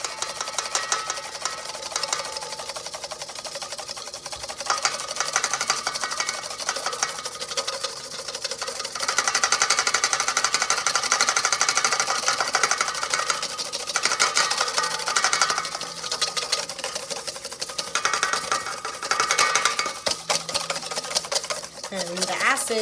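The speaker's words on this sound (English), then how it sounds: "start to incorporate some extra virgin olive oil in a steady stream while whisking." Olive oil whisked in a steady stream into egg yolk, lemon juice and Dijon mustard, making a rapid, continuous metallic whisk clatter against the bowl that keeps a busy rhythm and grows louder midway.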